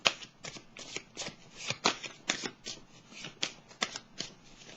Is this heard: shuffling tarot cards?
yes